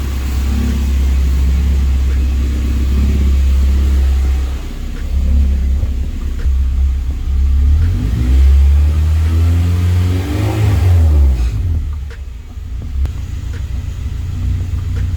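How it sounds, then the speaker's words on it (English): A K-swapped Honda EG Civic with a Skunk2 exhaust idles with a deep, steady rumble. The engine note rises and falls slightly as the idle wavers by a couple hundred RPM, and it is heard close and alone. "also idles, I don't know if you can see, it's just like wavering back and forth, a couple hundred RPM there"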